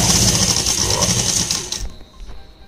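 A sewing machine runs a close, loud continuous stitch along an elastic trouser waistband, the rapid mechanical whir stopping abruptly partway through and leaving faint clicks and quiet room noise.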